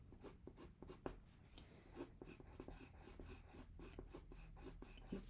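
Pencil scratches across paper in quick, repeated short strokes as individual hair strands are drawn, close and soft, with a steady rhythmic rasp and no talking.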